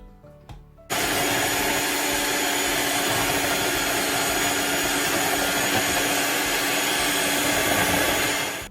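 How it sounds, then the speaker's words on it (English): Electric whisk whirring steadily through double cream for a chocolate mousse, starting abruptly and running as a constant loud drone for several seconds, close and alone. "we're going to whisk the double cream"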